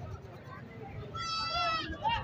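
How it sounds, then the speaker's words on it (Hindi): A young goat bleats at a busy livestock market, one wavering cry rising over crowd chatter and children's voices. "कैसा लग रहा बकरा देख, छोटा वाला"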